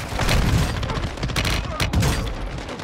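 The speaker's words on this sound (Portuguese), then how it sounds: "Tão atirando em mim" Rapid gunfire in Call of Duty: Warzone 2.0, played in third-person mode: a loud, dense burst of overlapping shots and booms pounding close by across the whole moment, with brief sharp cracks breaking through.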